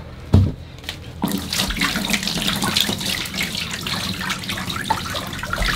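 Water pours steadily into a bathroom drain line during plumbing repairs, a continuous close splashing and trickling that starts after a brief pause and runs loud and unbroken with no talk.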